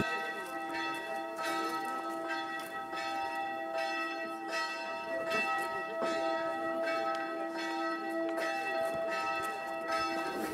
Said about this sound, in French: pendant cette bénédiction, nous sonnons la cloche de la chapelle.